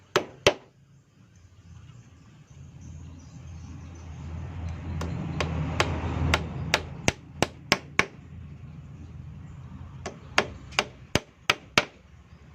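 A hammer drives nails into wood in quick bursts of sharp knocks: a couple at first, then a fast run, then another run after a pause.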